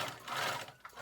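A sewing machine runs steadily as it stitches the back centre seam of a cashmere coat lining, a close, continuous mechanical whir lasting about a second.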